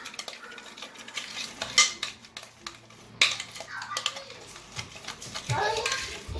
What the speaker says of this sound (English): I'm going to mix everything together.